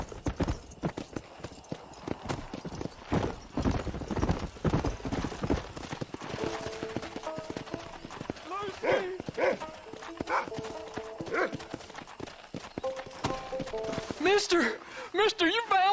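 Horse hooves clip-clopping in the game Red Dead Redemption, a steady rhythmic trot of close hoofbeats, with people talking over it.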